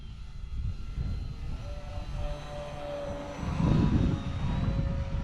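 A model airplane's engine whines overhead during formation flying with two planes, a steady buzzing drone that swells louder toward the end as it passes, heard from the ground at moderate distance.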